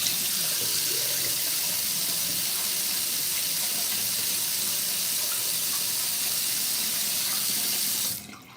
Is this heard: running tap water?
yes